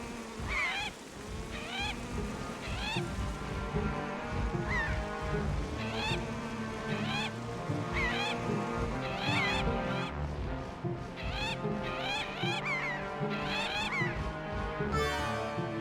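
Large birds in The Legend of Zelda: The Wind Waker honk and squawk repeatedly and loudly, overlapping calls over steady game background sound with no talking.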